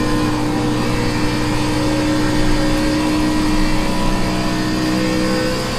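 Race car engine in the iRacing NASCAR Xfinity Series sim at Las Vegas Motor Speedway, a loud, steady drone held through a corner with constant whirring tones and no speech.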